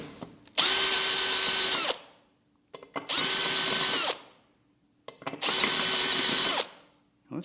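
A power drill deburrs drilled holes in a metal plate, whirring loudly in three sustained bursts of just over a second each, separated by short pauses, with no talking.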